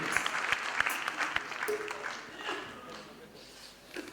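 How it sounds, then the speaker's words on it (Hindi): Applause from an audience at a ghazal concert, fairly close and lively at first, then thinning out, with someone talking over it. "एक बार जोरदार ताली दें साहब के लिए।"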